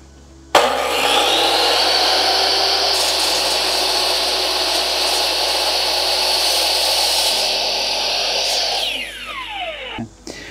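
A power saw bites into an aluminum handrail piece, a loud sustained whining cut lasting several seconds before the blade spins down and the noise tapers off at the end.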